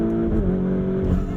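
A 2021 Lamborghini Urus in Corsa mode gives a loud, close engine drone, with the pitch dipping briefly as a gear shifts before the steady roar carries on.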